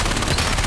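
Dense, continuous rapid gunfire from a first-person shooter game, loud and unbroken throughout, with no voices.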